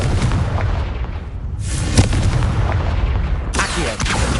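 In the video game Hogwarts Legacy, the Confringo fire spell goes off in loud, booming explosive blasts, with heavy rumbling bursts layered over a dense, continuous wash of battle noise.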